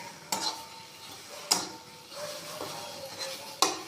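A utensil scrapes through thick cabbage paste (badhakopi bata) in a pan, with a soft sizzle underneath. A few sharp clicks of metal on the pan stand out in a quiet, close stirring passage.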